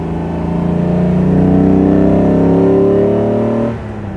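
A 1959 Mercedes 300 SL Roadster with a three-litre six-cylinder engine revs past 4000 rpm, a loud, smooth rising drone held high and close, then dropping sharply near the end.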